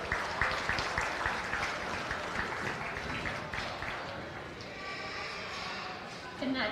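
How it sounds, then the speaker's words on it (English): Audience applause at a county fair goat show for young exhibitors, a steady wash of clapping heard at a distance in a large arena and continuing under background noise. "give some kids some applause for this class"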